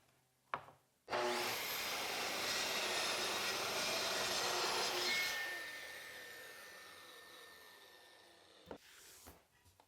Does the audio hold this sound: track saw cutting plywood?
yes